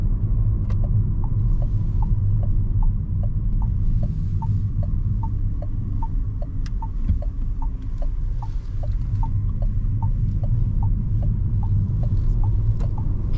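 Inside a Renault Symbioz E-Tech Hybrid driving on a country road, a steady low road rumble and hum fill the cabin, with a regular faint ticking running throughout.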